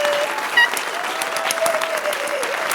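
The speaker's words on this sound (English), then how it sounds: "I accept all the applause." Steady applause from an audience, a continuous wash of clapping at even loudness for a few seconds, with no talk over it.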